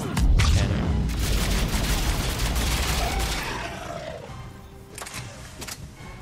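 Cannon fire in the Mass Effect 3 video game: a loud booming blast rolls out and fades over several seconds, followed by fainter distant thumps.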